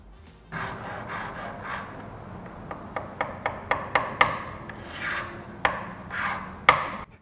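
Close-miked rubbing and tapping on an RSNV wing riser for a Porsche GT4, a steady scraping rasp broken by a run of sharp, evenly spaced taps and knocks with no talk.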